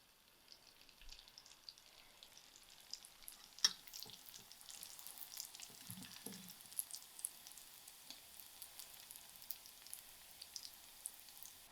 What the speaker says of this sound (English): My oil is heated up, so I'm going to start to fry the Vetkoek 2 at a time